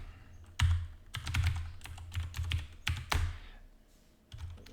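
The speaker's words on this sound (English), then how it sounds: "I go up here in my console and I type in means 1" A command is typed on a computer keyboard into a console, a close run of uneven key clicks and thunks with brief pauses and a final few taps, with no voices.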